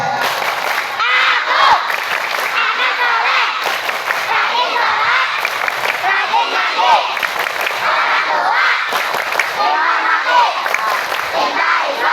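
Elementary schoolchildren in a packed school hall shout and clap along together in a loud, lively group chant led by a preacher, a continuous roar of young voices with rhythmic bursts throughout.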